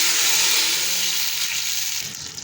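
Green chili tadka with cumin sizzles as it is poured hot over cooked rice, a steady bright hiss that stays loud and close before easing slightly at the end.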